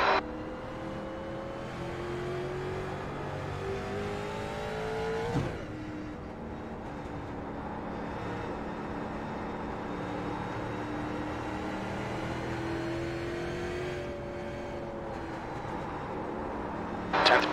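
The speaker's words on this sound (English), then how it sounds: "There's a car approaching." A street stock race car engine drones steadily at Langley Speedway in the iRacing sim, its pitch rising and falling through revs, with another car passing and brief sharp bursts near the start, middle and end.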